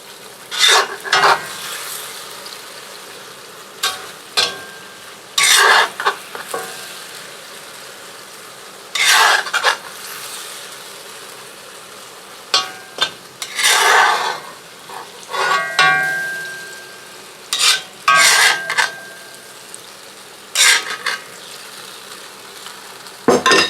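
Korean-style BBQ stir-fry tossed in a cast iron wok on a wood cookstove, loud repeated bursts of sizzling and scraping spatula strokes in irregular clusters, with quieter crackle between.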